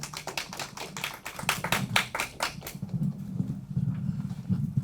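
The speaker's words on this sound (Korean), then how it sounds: "힘찬 박수로 모시겠습니다." An indoor audience at a Korean labour-issues forum bursts into applause to welcome a speaker, with dense close clapping that thins into scattered claps over a low murmur of the room.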